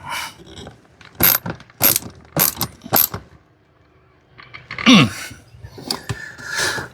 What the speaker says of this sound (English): I wonder why that ain't ratcheting like it's supposed to